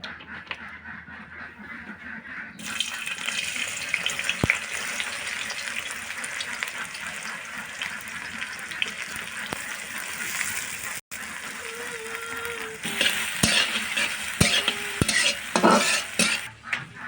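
Oil heats and sizzles in a kadai for biryani, a steady close hiss with occasional stirring clanks and a few soft pops, no talking.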